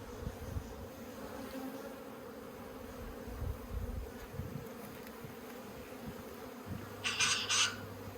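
Bees buzz steadily around an opened top bar hive during an inspection in Australia, a continuous close hum with a few louder passes near the end and no speech.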